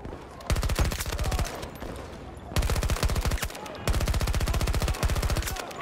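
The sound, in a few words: K30 SMG gunfire in the video game Battlefield 2042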